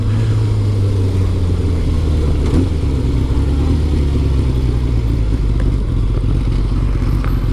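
Steady engine drone of a Kawasaki ZZR600 motorcycle being ridden on suburban roads, loud and close with constant wind rush and no talking.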